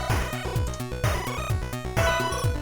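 A synthesized melody generated by a C program plays as a quick run of short, bright electronic notes, with vibrato added on every third note, in a steady repeating rhythm.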